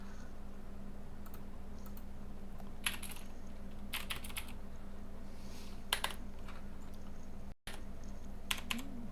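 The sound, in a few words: typing on a computer keyboard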